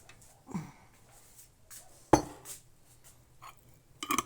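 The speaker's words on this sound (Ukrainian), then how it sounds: "Тут гвинтова кришка, єврокришка. Закриваю міцно і перевертаю." Glass jar of home-made sausage in lard being sealed with a metal screw-on lid, scattered close clinks and scrapes of metal on glass with one sharp knock in the middle.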